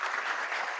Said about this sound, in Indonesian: tepuk tangan buat leader kalian hari ini